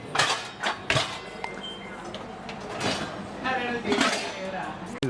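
Plates and milk vessels clink and clatter as they are handled from the bottom rack of a Bosch dishwasher, with several sharp knocks at irregular intervals over a steady background.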